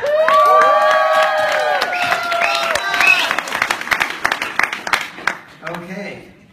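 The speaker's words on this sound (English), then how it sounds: "everyone wants to applaud you" An audience at a talk applauds and cheers, a steady wash of clapping with whoops that thins into scattered claps and fades out.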